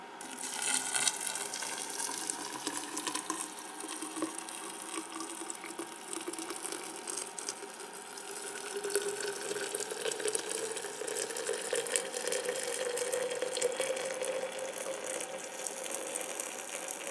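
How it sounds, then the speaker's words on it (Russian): Boiling water is poured into a thermos in a home kitchen, a steady soft trickling and filling sound that lasts throughout with a slight rise as the vessel fills. "И выливаем туда кипяток."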